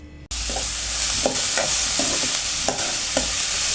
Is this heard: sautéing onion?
yes